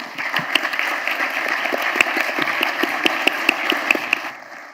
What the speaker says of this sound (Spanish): los despedimos con un fuerte aplauso